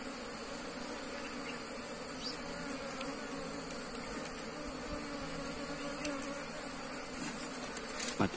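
Wild bees swarm around a forest nest being harvested at the end of the honey season, filling the air with a steady, close, dense buzzing drone that continues throughout, with faint knocks and rustles.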